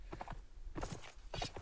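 A horse in a multiplayer video game match, with hooves clip-clopping in quick uneven bursts of three groups, moderately close and alone.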